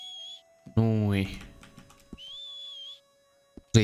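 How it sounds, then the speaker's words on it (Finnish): Two tuneful whistled phrases from a character in the video game Red Dead Redemption 2, each lasting about a second, with a louder burst of game sound between them and brief clicks around. "Tosi hieno vihellystyyli."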